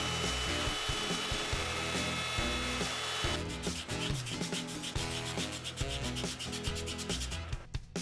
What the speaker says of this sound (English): sanding was done by either a sanding block or sometimes just a strip of sandpaper on top of a table.